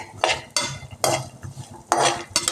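Peanuts and dried red chillies fry in a pan, with repeated scraping and stirring strokes in an irregular rhythm and a soft sizzle beneath, close and moderately loud with no talking.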